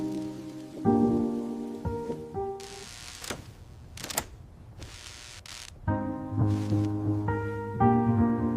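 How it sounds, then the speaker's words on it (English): Heavy rain falls at night around an isolated storm cabin, heard as bursts of broad hiss that come and go beneath sustained musical tones. "The rain tonight is heavy."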